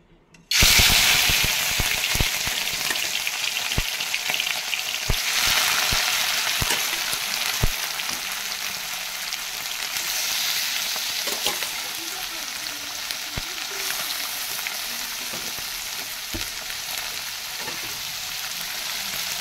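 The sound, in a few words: local fish frying in hot oil in a kadai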